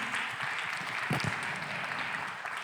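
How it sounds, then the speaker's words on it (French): Steady applause from a conference audience fills the space, a broad wash of clapping that continues evenly throughout. "Merci Sophie Boissard, merci Étienne Gernel, on vous applaudit."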